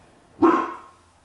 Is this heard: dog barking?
yes